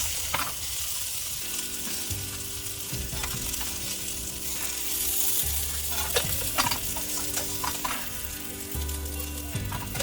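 Bangda mackerel fish frying on a tawa, a steady close sizzle and crackle with occasional light clinks and scrapes of a utensil, alone without talk.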